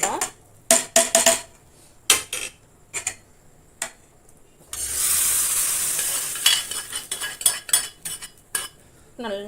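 Tamil dal kuzhambu with drumstick, brinjal and raw mango being stirred in a pot. Sharp metal ladle clinks come in spaced bursts around a brief sizzle of tempering poured in, all close by.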